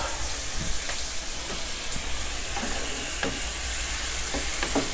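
Eggplant stir-fried in a hot pan for a clean-eating chicken red-curry stir-fry, giving a steady broadband sizzle with scattered utensil scrapes and clicks throughout.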